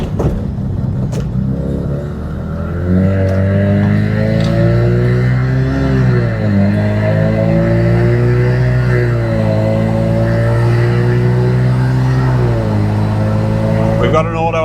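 A turbocharged automatic Mazda RX-7 with an 8HP gearbox accelerates hard, its engine note climbing and dropping back through several upshifts, loud and close from inside the car while someone talks over it.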